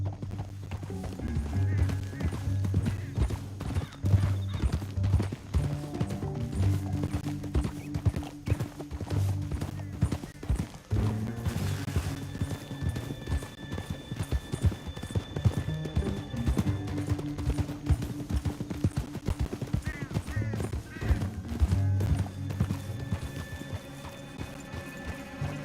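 Horse hooves clip-clopping in the video game Red Dead Redemption 2, a steady rhythmic trot running throughout, mixed with game music, occasional whinnies and characters talking over it.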